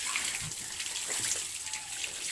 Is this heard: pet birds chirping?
no